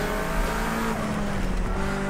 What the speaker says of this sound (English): we're screeching the brakes up, don't lock them up